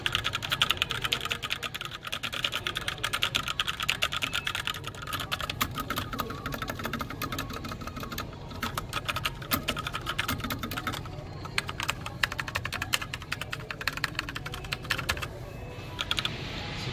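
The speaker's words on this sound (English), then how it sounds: "I'm going to give you a little bit of a typing demo." Rapid, continuous typing on a SteelSeries Apex M750 TKL mechanical keyboard, a dense clatter of key presses close up with a few brief pauses, no voices.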